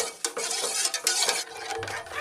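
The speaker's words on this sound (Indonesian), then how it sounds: "aduk secara terus-menerus selama 5 menit sampai dengan 7 menit" Coconut milk being stirred in a pot over a medium flame for a bika ambon cake, a short run of close scraping and swishing strokes with faint clinks of a utensil against the pot.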